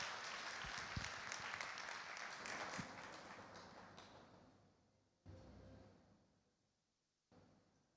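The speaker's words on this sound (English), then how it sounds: "Give him a big round of applause." Applause from the audience at a real estate launch event in Kenya, a broad wash of clapping that is loud at first, then fades away, with a couple of brief later bursts.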